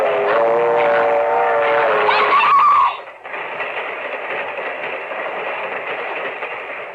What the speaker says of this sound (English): My foot! It's caught in the train!